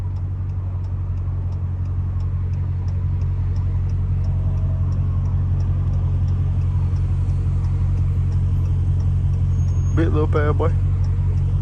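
A Dodge SRT Hellcat drives through downtown Birmingham, its engine a steady, loud low rumble under the whole stretch, with someone talking over it and a quick ticking in the background.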